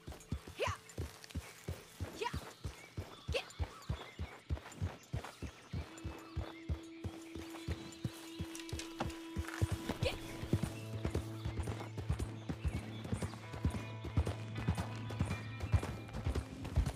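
A horse gallops in Red Dead Online, its rapid hoofbeats pounding in a steady, close rhythm, with sustained low tones building beneath the hooves in the second half.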